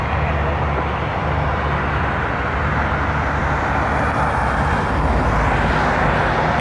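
An Air Canada A320 airliner takes off from runway 23 at Toronto Pearson, its jet engines a loud, steady broadband roar that swells slightly toward the end.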